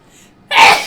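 A single sharp sneeze bursts out close to the microphone after a brief near-silent pause, loud and abrupt before quickly fading.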